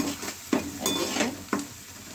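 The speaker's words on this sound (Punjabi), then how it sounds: "ਹੁਣ ਅਸੀਂ ਇਹਨੂੰ ਚੰਗੀ ਤਰ੍ਹਾਂ ਹਿਲਾ ਲਾਂਗੇ ਵਿੱਚ ਮਸਾਲੇ ਨੇ ਤੇਲ ਛੱਡ ਦਿੱਤਾ ਹੈ" Spiced onion masala frying in oil while being stirred, with a steady sizzle broken by several sharp scrapes and clinks of a spoon against the pan, close and moderately loud, no talking.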